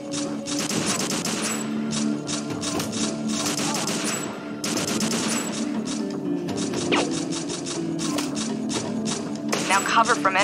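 Rapid gunfire in the shooter video game Overkill 3 rattles on throughout in dense, mechanical bursts, with a voice talking over the shooting.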